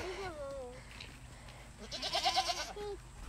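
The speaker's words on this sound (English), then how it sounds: "So Maverick is just hand feeding our little goats here." Little goats bleat several times in quick succession, close by, as they are hand fed on a farm with alpacas; a voice speaks briefly near the start.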